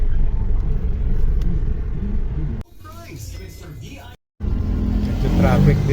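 Town traffic in Magala near a market, a heavy low rumble of engines that drops out briefly and then returns, with a voice talking over the middle part.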